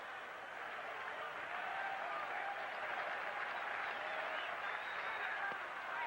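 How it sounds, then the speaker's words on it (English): Baseball stadium crowd at a 1999 Red Sox game reacting to a pitch, a steady broad roar and scattered applause holding at even strength throughout, with no clear voice above it. "that's the crowd reaction"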